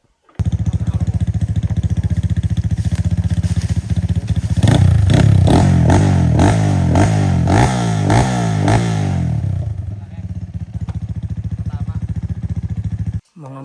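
Enduro motorcycles ride a dirt trail, a mid-pitched engine droning steadily close by, rising into a louder revving, clattering stretch before settling back to a steady run.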